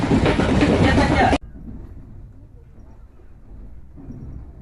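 The Avadh Assam Express pulls out of Farkating Junction, a small two-platform station. A loud burst of rumble cuts off abruptly, then a low steady rolling rumble continues with soft clatter underneath.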